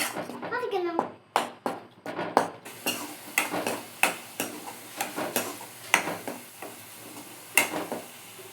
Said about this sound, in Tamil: இப்போ நல்லா வெங்காய தக்காளியை வதக்கிடுவோமா?